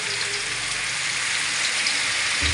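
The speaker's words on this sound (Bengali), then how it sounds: "এই যে এবার পেঁয়াজটা ভেজে দেবো" Sliced onion frying in hot oil in a pan for chicken kosha, a steady, dense, loud sizzle that hisses continuously throughout, with no voices.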